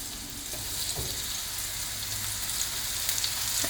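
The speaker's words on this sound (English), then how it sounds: "We're going to do it in batches and just cook them for a couple minutes." Food frying in a pan, one batch cooking for a couple of minutes: a steady, close sizzle and crackle runs throughout with no talk.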